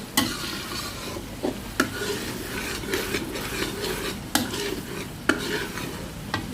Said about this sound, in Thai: ผัดให้พริกแกงหอมเลยนะคะ